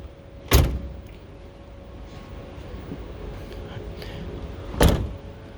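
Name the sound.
Fiat Ducato campervan doors being closed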